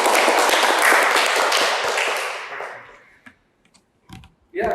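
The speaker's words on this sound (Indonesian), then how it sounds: "Tepuk tangan untuk kelompok 2" A classroom group claps for a team of presenters, a dense burst of applause that fades out midway, leaving a few scattered taps and a voice at the end.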